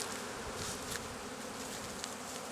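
Bees buzzing steadily across an apiary, a dense, continuous drone of many insects close around, with a few louder individual fly-bys standing out from the swarm.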